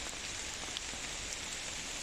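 Steady rain falls through a forest, a dense, even patter on leaves and ground with no voices, holding constant for the whole stretch.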